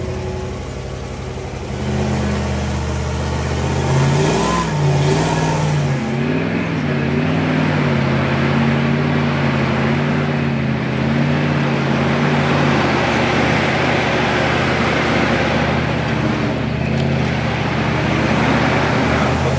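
An off-road 6x6 truck on truck suspension drives along a trail, its engine droning and rising in pitch as it revs and pulls, with rumbling and rattling underneath, close and continuous.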